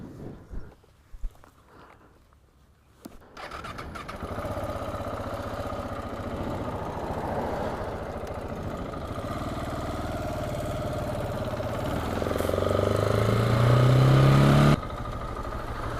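A 2018 KTM 690 Enduro R single-cylinder motorcycle starts up after a few quiet seconds of scuffing, then settles into a steady, close idle whose rumble swells louder near the end before cutting off.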